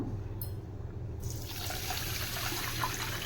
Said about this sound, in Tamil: இதுக்கு தேவையான ஒரு கப் அளவுக்கு தண்ணி ஊற்றி